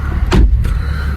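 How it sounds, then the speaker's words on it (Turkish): A Mercedes GLB 200 car door shuts with a single short thud at close range, followed by a quieter second knock, over a steady low background hum. "Bu şekilde kapıyı kapatalım."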